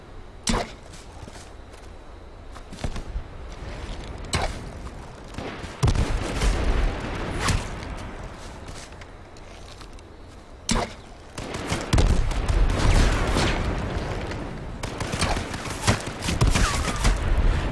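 Gunfire and explosive arrow impacts in a battle royale video game, a series of sharp cracks and bursts at irregular intervals, some loud and close, building into denser clusters of shots toward the end.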